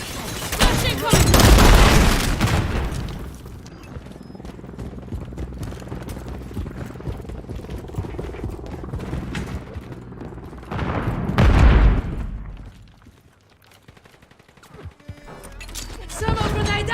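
Flash grenade explosions and gunfire in a Call of Duty Modern Warfare 3 match arrive as two loud bursts with rapid crackling shots between them, game voice callouts mixed in.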